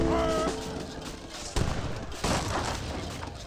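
Light cannon artillery fire booms in an Age of Empires 3 battle, a few sharp blasts with crackling impacts, loud and close, following a short tonal game sound.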